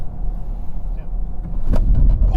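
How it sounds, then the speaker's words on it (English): A Volkswagen ID.4 First Edition brakes hard on an empty road, a low rumbling tire and road noise that swells into a louder scrubbing burst near the end, heard from inside the car. "I'm gonna try out the brakes."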